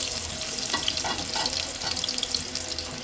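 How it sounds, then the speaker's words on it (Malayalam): Ginger and garlic sautéing in melted oil and butter in a pan, a steady close hiss and sizzle running the whole time with light stirring scrapes. "അപ്പോൾ ഇത് ഇങ്ങനെ വഴറ്റണം കൂട്ടുകാരെ"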